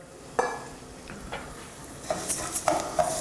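Uncooked rice is stirred in hot olive oil in a pan, with a soft continuous sizzle broken by several sharp scrapes and clinks of a utensil against the pan, close and without speech.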